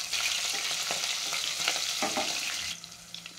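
Four to five green chillies frying in hot oil with spices for ghee rice, a steady close sizzle with crackling pops and occasional stirring scrapes, easing slightly toward the end, no voices.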